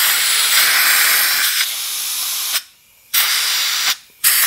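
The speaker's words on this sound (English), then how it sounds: "get the air gun in there and just blow it out" Compressed air gun blasting through a clogged Ryobi driveway cleaner attachment, loud hissing bursts in several separate pulses with short silent gaps between them, close by.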